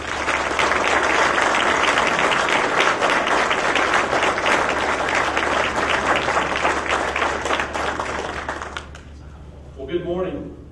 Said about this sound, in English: Would you please give a round of applause and welcome to Brian Miller